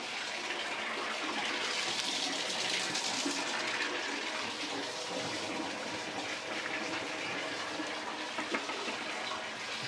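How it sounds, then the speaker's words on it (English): Water runs steadily from a household plumbing fixture during a home inspection, a loud, continuous rushing splash that fills the whole stretch without any talking. "after you've run the water for a good amount of time"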